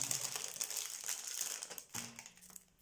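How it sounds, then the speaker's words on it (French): Packaged washi tapes being unwrapped up close, with steady crinkling and crumpling of plastic wrapping that continues throughout and tapers off at the end. "elle m'a rapporté des washi comme ceci. Alors je vais les ouvrir."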